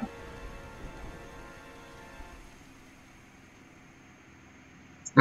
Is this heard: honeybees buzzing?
no